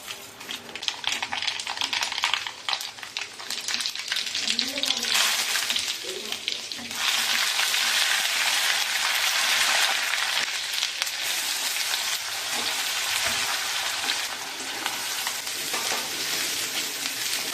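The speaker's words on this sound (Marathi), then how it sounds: "कांदा थोडासा लालसर असा परतून घेतला" Onions frying in oil for a pav bhaji tempering, a loud continuous sizzle close up with irregular stirring scrapes and ticks, swelling in intensity midway.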